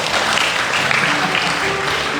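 A congregation at a worship service applauds with dense, steady clapping that fills the room, with a low hum of voices beneath it.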